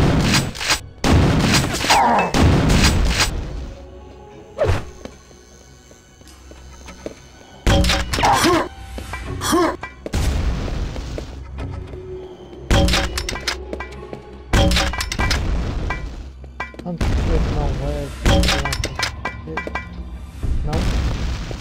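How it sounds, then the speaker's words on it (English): Call of Duty WWII gunfire rings out in loud, irregular bursts of shots and heavy thuds, separated by quieter gaps, with a player talking in between. "Somebody's shooting me now."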